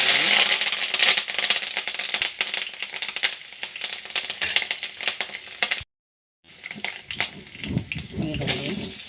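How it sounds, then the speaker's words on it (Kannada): Mustard seeds, cumin, chana dal and urad dal crackling in hot oil for an onion palya, giving a loud dense sizzle with sharp popping ticks and clatter, cut by a short silent gap, with a voice nearby. "ಎಣ್ಣೆ ಕಾದಿದೆ, ಇದಕ್ಕೆ ಸಾಸಿವೆ ಜೀರಿಗೆ ಹಾಕೋಣ, ಕಡಲೆಬೇಳೆ ಉದ್ದಿನಬೇಳೆ, ಅರಿಶಿನ,"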